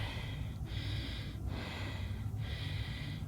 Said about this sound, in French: Ouh, essoufflé, il y a encore un peu à monter.